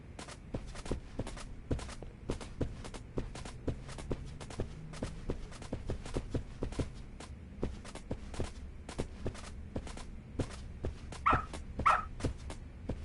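A dog in the video game Lost Judgment moves with quick, evenly spaced footfalls and short yaps over a faint ambient bed, with a couple of brief louder barks near the end.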